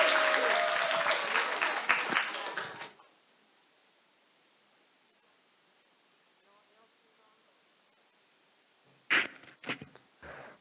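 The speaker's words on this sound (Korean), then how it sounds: "박수로 맞이해 주세요." Church congregation applause during a Sunday service in Korea, a loud burst of clapping that fades out after a few seconds, followed by near silence and then a few faint thumps and rustles.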